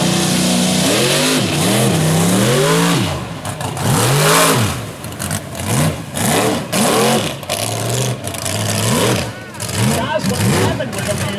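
Mud truck engine revving hard at a Hill and Hole style competition, with repeated rising and falling throttle sweeps, loud and close, broken by brief dips and surges throughout.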